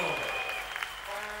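A church congregation claps together in a dense, steady burst of applause, loud and continuous throughout, with a faint tone and voices blended into the wash.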